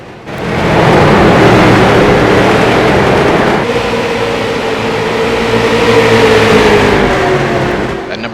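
Street stock race car in iRacing at Southern National Motorsports Park, onboard engine roaring loudly after a quiet start, holding a steady drone with a pitch shift as it works through the gears and revs.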